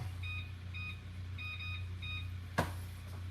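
A kitchen timer gives a series of short, thin electronic beeps in quick pairs while being set, faint over a low steady hum, followed by one brief sharp click.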